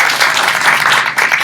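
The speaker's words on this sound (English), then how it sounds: "So let's give her a round of applause." Audience applause at a Center for Spiritual Living gathering on Kauai, a dense, steady wash of clapping filling the short moment without pause.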